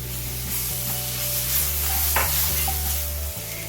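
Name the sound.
chopped tomatoes stirred into frying spice mix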